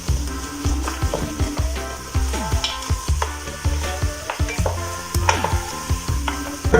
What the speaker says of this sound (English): Rub the bottom of the pan,